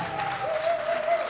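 A hip hop concert crowd claps in a brief, dense wash of applause, with a thin steady tone sounding faintly through the noise.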